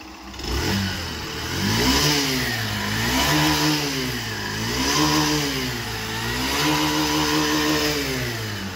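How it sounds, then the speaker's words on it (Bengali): A Honda Shine 100 DX motorcycle engine runs steadily close by, its mid-pitched drone rising and falling in repeated gentle revs with no talk over it. "তো এইটা হচ্ছে কিছুটা এই গাড়িটার ইঞ্জিন সাউন্ড, ইঞ্জিনে কীরকম সাউন্ড পাওয়া যাবে।"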